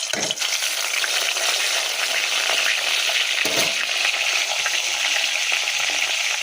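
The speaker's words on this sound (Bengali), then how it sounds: "মাছের তেলটা ভাবছি আগে রান্না করে নেবো" Fish fat frying in a pan over a lowered gas flame, a steady bright sizzle running throughout with a couple of sharp spatters or stirring knocks.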